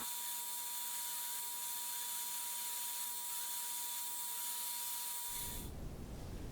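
A 1x42 belt sander grinds steadily against a metal adjustable wrench, a continuous whirring hiss with a faint motor hum that cuts off abruptly near the end.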